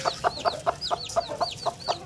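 A desi hen that is laying for the first time clucks beside a chick hatching from its egg. The clucks come in a steady, rapid series of about nine evenly spaced notes, close and clear.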